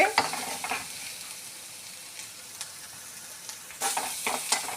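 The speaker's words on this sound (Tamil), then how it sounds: "கொஞ்சோண்டு மஞ்சள் தூள், அதுக்கப்புறம் கொஞ்சோண்டு சோம்பு தூள் எல்லாத்தையும் போட்டு நல்லா வதக்கிட்டு" Radish stir-fried with turmeric and fennel powder sizzles steadily in a pan, with occasional scraping stirs that grow louder near the end, and no talk.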